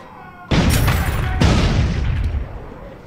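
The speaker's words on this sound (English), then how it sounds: "Definitely because of those explosions." Explosions in the video game Dead Rising 4 erupt with a sudden loud boom, followed by a second blast and a rumbling decay, close and heavy with no talk over them.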